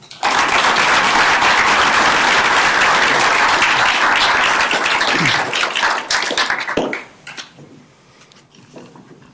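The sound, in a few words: audience applause welcoming speakers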